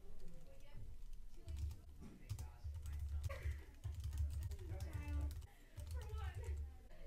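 Fingers tapping out a reply on a computer keyboard, a dense run of quick clicky keystrokes in bursts with brief pauses, close by, under a low background hum.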